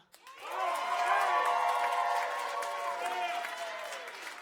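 Studio audience on a late-night comedy show breaks into applause and cheering with scattered whoops, a loud sustained burst that swells quickly and holds steady before easing slightly.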